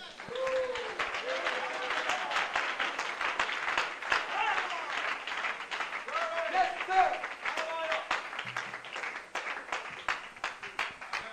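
A church congregation applauds during a sermon, a broad, steady patter of clapping that runs throughout, mixed with crowd voices and a speaker's voice rising above it at moments.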